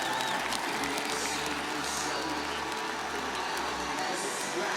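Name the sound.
crowd applause for biathlete Sebastian Samuelsson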